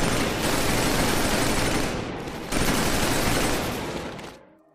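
Sustained covering gunfire in the shooter game Killzone 3, a loud, dense burst of rapid automatic shots that dips briefly, resumes, then fades out near the end.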